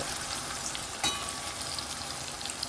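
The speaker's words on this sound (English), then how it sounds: "time to fry down our peppers, sweet pepper, tomatoes" Sweet peppers and tomatoes with seasoning fry in a pan for Jamaican ackee and saltfish, giving a steady, close hiss of sizzling oil with one brief clatter near the middle and no talking.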